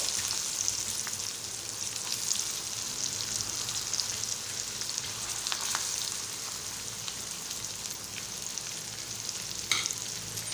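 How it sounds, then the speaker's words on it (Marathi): Onion frying in a pan with curry leaves and Malvani masala over cumin, mustard seed and asafoetida tempering, giving a steady close hiss with occasional light clicks of stirring, no voices. "आणि व्यवस्थित परतून घेणार आहे कांदा भाजेपर्यंत आपण दोन मिनटं थांबणार आहोत"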